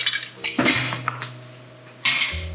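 Ice cubes clattering into a cocktail shaker for an espresso cocktail, a few sharp clinks and rattles in quick succession, then a pause before another bright clatter, close and clear.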